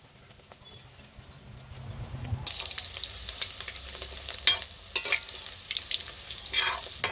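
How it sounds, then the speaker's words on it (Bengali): Chicken pakoras frying in hot oil in a kadai, a steady crackling sizzle that begins after a couple of seconds, with irregular sharper pops and spatters close by. "তেল গরম হয়ে গেছে, এবার চিকেন পকোড়াগুলো ভেজে নেবো"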